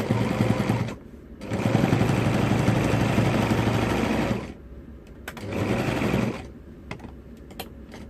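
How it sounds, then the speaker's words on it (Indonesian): An electric sewing machine stitches a zipper accordion from the bottom up, its rapid mechanical chatter running in two loud bursts separated by short pauses, with a few faint clicks and bumps in between. "saya jahit dari bawah sampai batas ini."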